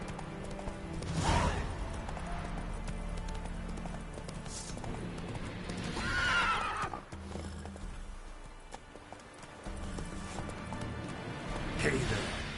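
Horse hooves clip-clopping at a gallop with an occasional neigh in a PS4 video game, steady rhythmic footfalls with bursts of louder movement, alongside game sounds and voices.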